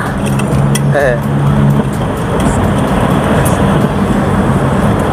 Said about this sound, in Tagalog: Kita ng tunog ng Toyota Corolla.